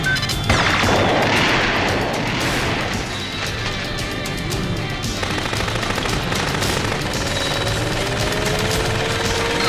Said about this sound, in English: Laser cannon, on.